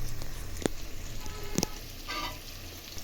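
Rohu fish pieces fry in hot oil with spices, a soft steady sizzle punctuated by a few sharp pops and clinks close by.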